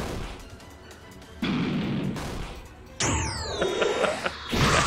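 A video game gunshot lands as a headshot that one-shots the Demon King boss; sharp, loud blasts crack out in bursts, with a ringing, decaying tail after the last shot.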